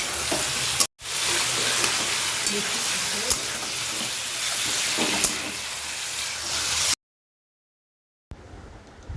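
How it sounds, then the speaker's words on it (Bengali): Jackfruit pieces frying over a medium gas flame, a steady loud sizzle with occasional spatula stirs, briefly cut off near the start and then dropping to silence toward the end before a quieter stretch resumes. "গ্যাসের আঁচ মিডিয়ামে রেখে এঁচোড়গুলোকে ভেজে নিতে হবে।"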